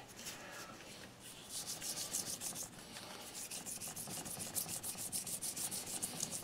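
Fine 3600-grit abrasive rubbing over a chip repair on a snowman plate, a steady close-up scratchy swishing in quick back-and-forth strokes that grow brisker partway through, with no voices.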